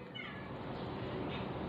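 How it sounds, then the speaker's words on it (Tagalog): A cat in a cemetery gives two drawn-out meows, one near the start and one after the middle, moderately close over a steady background hiss. "Ganda ng pusa na ito."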